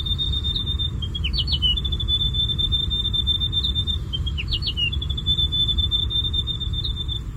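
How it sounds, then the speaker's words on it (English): A grey warbler sings a thin, high warbling song that repeats, sustained notes broken by quick trills, over a low steady background rumble. "the grey warbler song"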